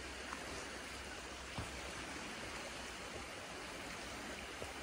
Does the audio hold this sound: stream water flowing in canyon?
yes